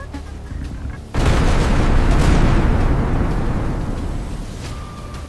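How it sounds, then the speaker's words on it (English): A single deep boom from a tower cannon erupts suddenly after a quiet moment, followed by a long rolling roar of rumble that slowly fades. "The tower cannon."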